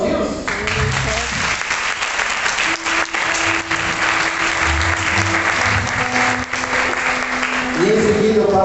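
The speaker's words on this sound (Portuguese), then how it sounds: "Vamos aplaudi-los?" A church congregation at a Festa das Nações service in Brazil applauds a singing group, loud sustained clapping over lingering music and tonal sounds, with voices murmuring underneath.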